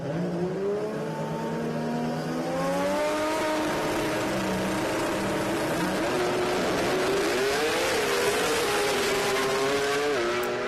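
Loud engines roar and rise in pitch as drag racing cars accelerate hard down the strip at the Sydney Jamboree, with a continuous throaty drone and shifting revs.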